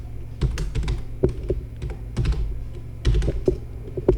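Computer keyboard typing of game code in GameMaker Studio 2.3, with uneven bursts of close, clicky keystrokes and brief pauses, no voices.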